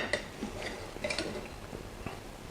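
A knife cuts into a bacon bomb, giving a series of short, crisp clicks and scrapes against a plate or board at an uneven rhythm, close and fairly quiet with no talking.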